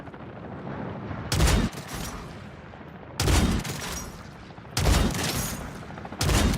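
Video game gunfire from a helicopter: four separate loud bursts of rapid shots, each lasting under a second, spaced a couple of seconds apart over a steady low background rumble.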